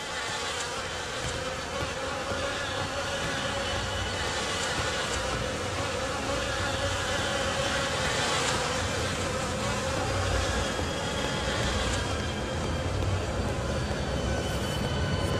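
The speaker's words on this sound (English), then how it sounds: "The air is heavy with the stink of rot and the buzzing of those damned insects." Insects drone and buzz continuously in The Fidelio Incident video game, a dense close hum layered over a rough broadband ambient rumble, steady throughout with no speech.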